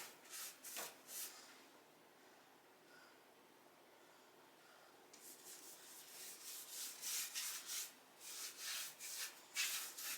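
A paintbrush, an S50 Klingon brush loaded with paint, drags across a dresser salvaged from the trash in soft, close swishing strokes, quiet at first, then a quicker run of repeated brushing passes with no one speaking.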